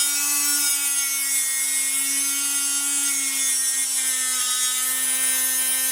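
A cutting tool grinds steadily through underglow light strips for a Nissan 350z. The rasping, buzzing drone is continuous, close and loud, with a steady whine held under it and no pauses.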